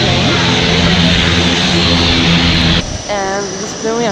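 A small propeller plane at a small airport near the Mekong Delta drones loudly and steadily up close, then the pitch shifts abruptly and wavering engine tones rise and fall as it keeps running.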